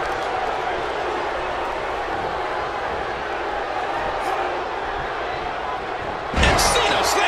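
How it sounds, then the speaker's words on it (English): John Cena delivers a heavy slam in the wrestling game WWE 2K17: a loud thudding impact near the end, rising over a crowd murmur and commentary voices. "And Cena slams."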